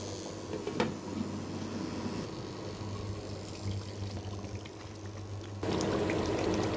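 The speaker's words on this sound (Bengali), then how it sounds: "এখন পানি দিব একটু সেদ্ধ হওয়ার জন্য।" Water poured into a pan of chicken and small potato curry, a steady gurgling pour with bubbling that grows louder near the end, heard alone.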